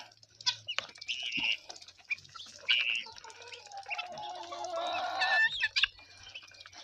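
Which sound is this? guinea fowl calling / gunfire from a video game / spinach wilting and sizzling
guinea fowl calling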